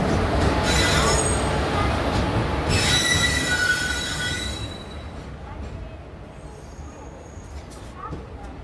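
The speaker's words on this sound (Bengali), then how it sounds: "এখন আমরা পৌঁছে গেছি সাদার্ন রেলওয়ের খুব একটা ইম্পর্টেন্ট রেলওয়ে স্টেশন কাঠপাদি জাংশনে" Train at Katpadi Junction railway station on Southern Railway, loud metallic wheel squeal ringing over a heavy rolling rumble for the first half, then settling into a lower, steady clatter of rolling carriages.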